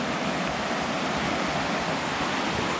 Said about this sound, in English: you can see the rapids there. It's flowing really strong.